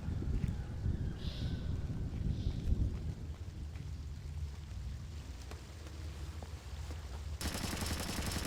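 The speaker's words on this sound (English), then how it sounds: "Hearing gunfire down there, Fisher." Distant, muffled gunfire in the game Splinter Cell: Chaos Theory pops intermittently under a low rumbling ambience, with a brighter hiss cutting in near the end.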